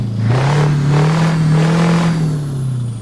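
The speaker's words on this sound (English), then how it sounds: "it's the exact same engine. It just sounds better." A modded truck engine in Euro Truck Simulator 2 revs loudly and rises to a steady roar, holding a deep mechanical drone before easing off toward the end, with no voices over it.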